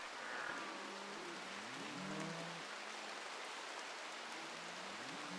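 Rain in the video game RimWorld falls as a soft, steady hiss throughout, with faint gliding tonal sounds drifting over it and no voices.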